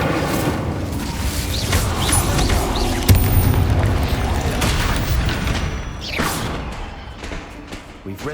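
Incendio fire spell cast during combat in Hogwarts Legacy on PS5: a dense, sustained roar of game effects with booming thuds and a sharp blast about three seconds in, continuing loud throughout.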